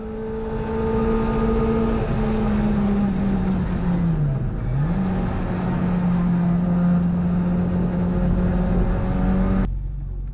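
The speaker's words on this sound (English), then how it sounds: "So down the back straight here, I think Mark was clocking around about 100 miles an hour." Classic Mini race car at full throttle down the Brands Hatch back straight, a loud steady engine drone with a brief dip as the driver lifts or shifts mid-way, then a sudden cutoff near the end.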